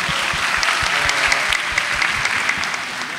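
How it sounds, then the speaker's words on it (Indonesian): Steady applause from an audience at an Indonesian talk about graduates, dense clapping filling the room at an even level for a few seconds, with no voices over it. "Tepuk tangan dong."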